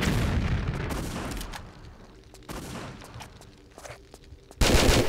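Gunfire in the Tomb Raider 3 video game comes as dense rapid bursts, loud at first, then thinning to scattered sharp shots, before a heavy burst returns at the end; no talking.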